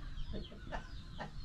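Chickens cluck in short, soft bursts around a Filipino home, a few brief calls spread over a steady low background hum.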